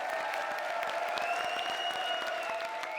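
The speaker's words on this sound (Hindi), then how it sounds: "जोरदार तालियों से इनका स्वागत कीजिए" A studio audience on a comedy show applauds a comedian's entrance with steady, dense clapping that holds evenly throughout, backed by faint tonal music.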